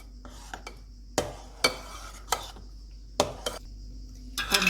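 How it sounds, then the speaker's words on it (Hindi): Custard is stirred into cream for a pistachio souffle, giving close, crisp utensil clicks and scrapes against a bowl in an irregular rhythm with quiet pauses between them. "ये जो कस्टर्ड हमने तैयार किया हुआ था ये मैं तकरीबन आधा जो है वो क्रीम में मिक्स करने लगी हूँ"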